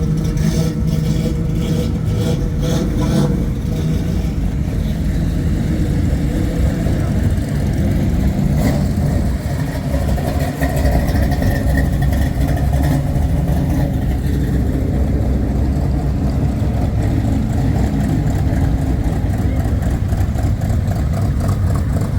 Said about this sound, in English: I'm gonna get some footage of these cars leaving